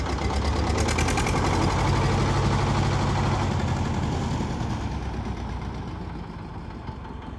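Vintage HMT 2511 tractor engine running close by, a loud rhythmic thudding diesel chug that holds steady and then slowly fades as it moves off, with no talk over it.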